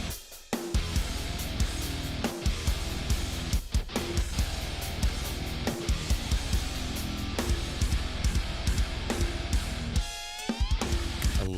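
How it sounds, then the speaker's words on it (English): Full metal band mix of distorted rhythm guitar, bass and pounding drums for a cover, dense and loud throughout, with a squealing pinch harmonic near the end. "So here's the guitar, bass, and drums all together."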